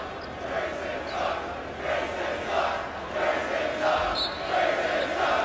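Basketball arena crowd at a Duke Blue Devils game at Virginia Tech, a steady loud roar of many voices with swelling, displeased-sounding murmurs rising and falling throughout.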